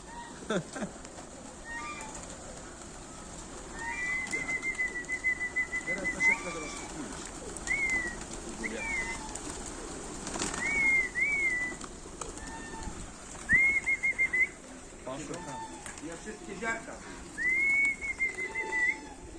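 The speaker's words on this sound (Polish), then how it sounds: "Połębie z ręki jedzą" Pigeons coo repeatedly nearby in a loft of about 220 birds, soft rolling calls recurring over a bed of fluttering and rustling, while people talk in the background.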